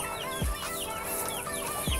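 A brooding hen clucks in low, repeated bursts amid background farmyard chatter and chirps, moderately close, with no talking.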